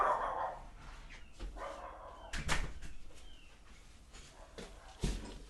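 A small pet dog barking indoors at a friend outside, sharp bursts spaced irregularly across the stretch with a louder cluster near the middle and another near the end, close by and fairly quiet overall.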